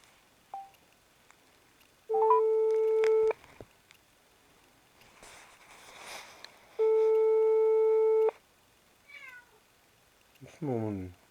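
Landline telephone ringback tone in two long steady rings with a pause between, heard over a quiet room where a cat meows faintly and keypad tones chirp near the end.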